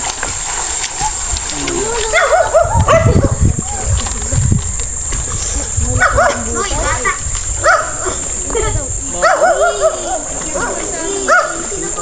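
An angry dog on a farm barks in repeated harsh bursts, loud and close, mixed with people talking loudly over it.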